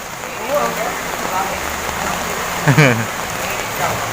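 Heavy rain pours steadily in a hiss that fills the whole clip on the fifth straight day of downpour, with a voice speaking faintly beneath the constant wash of falling water.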